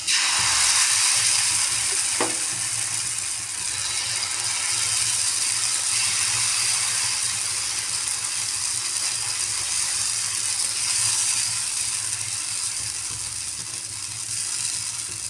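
Ragi dosa batter sizzles on a hot griddle with ghee over a medium stove flame, a steady bright hiss that continues nearby throughout, with one brief sharp click early on.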